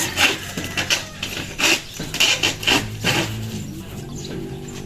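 Hand saw cutting through wood during house construction, a run of rough rasping strokes in an uneven rhythm, fairly loud and close, fading toward the end.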